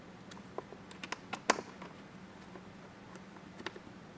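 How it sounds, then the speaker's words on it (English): Small clicks and ticks from a 3mm Allen key snugging down mud flap screws on a 2022 Ford Bronco Raptor, a dozen or so sharp, close taps at an irregular pace over a faint steady hum. "take our 3mm Allens and tighten those down"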